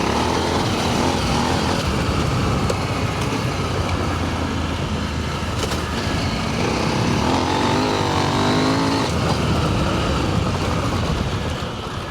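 A motorbike engine rides a trail loop in third gear, lugging a little before picking up, a continuous loud close drone with wind and rattle and rising pitch toward the end.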